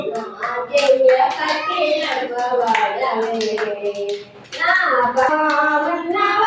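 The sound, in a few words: hand clapping along with a song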